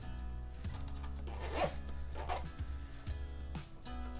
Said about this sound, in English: Petzl makes this really cool little hanger dealie that you can put the lamp in and then zip up.